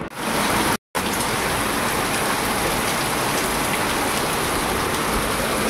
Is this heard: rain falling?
yes